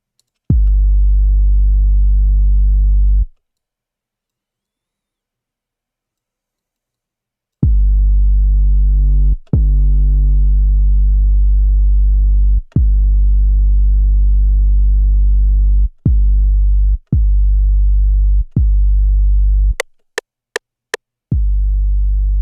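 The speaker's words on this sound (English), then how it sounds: "Let's add some more distortion." A heavily distorted Serum trap bass plays alone, one held note, a pause, then a run of loud sustained notes with short breaks, ending in a quick series of brief stabs.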